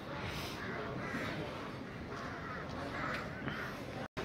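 Many crows, a flock of 1,000 to 1,500, caw over one another in repeated harsh bursts, calling continuously at a moderate distance, with a brief dropout near the end. Recorded at Govind Dham.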